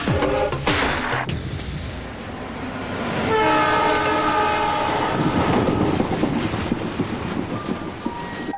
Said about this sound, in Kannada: ಮೈಸೂರಿನಿಂದ ಬರುತ್ತಿರುವ ಪ್ಯಾಸೆಂಜರ್ ಟ್ರೈನ್ ಇನ್ನೇನು ಕೆಲವೇ ನಿಮಿಷಗಳಲ್ಲಿ ಪ್ಲಾಟ್ಫಾರ್ಮ್ ನಂಬರ್ 6ಕ್ಕೆ ಬರಲಿದೆ